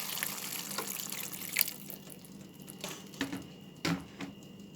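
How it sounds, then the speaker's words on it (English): Water is poured into a saltfish stew with sweet peppers while it cooks, giving a faint, soft trickling splash broken by a few light clinks against the pot. "Just gonna add a little bit of water."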